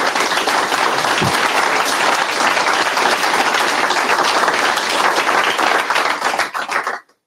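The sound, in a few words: audience applauding the API teams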